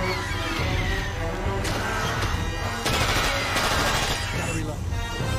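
Gunfire rings out in Peter Jackson's King Kong as rapid shots crack through a dense, loud mix of game sound and score. A person talks over the shooting.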